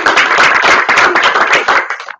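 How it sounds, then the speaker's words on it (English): A small group at a team meeting breaks into dense, loud applause, quick overlapping claps that hold steady for about two seconds before cutting off abruptly. "let's give a round of applause and welcome"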